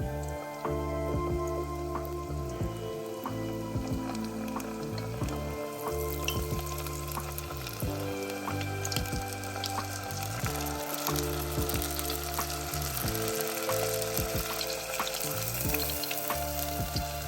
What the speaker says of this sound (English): We're going to fry the onion rings for about 2 minutes or until they're golden brown.